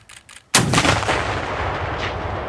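U.S. Army soldiers in Germany fire an AT4-CS confined space light anti-armor weapon: after a brief quiet moment, one sudden, very loud blast booms close by, then rolls off into a long fading rumble.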